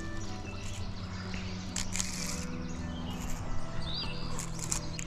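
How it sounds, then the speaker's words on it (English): Birds chirp and call around a shallow backwater of a flooded river, with scattered bright chirps over a low steady background hum and brief rustling noises. "Just listen to all those birds."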